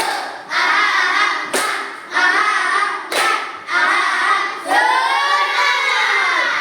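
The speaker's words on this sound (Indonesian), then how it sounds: "Tepuk tangan untuk semua kelompok dari 1 dan 4" A classroom group bursts into hand clapping in several loud waves of applause, each swell lasting about a second or more with brief breaks between, children's voices faintly mixed in.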